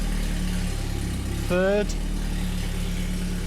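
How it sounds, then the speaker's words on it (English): Vauxhall Cavalier under restoration with its engine idling steadily and close, a short rev rising briefly in the middle during a gear change, while someone speaks a single word. "Looks like the gears are in order."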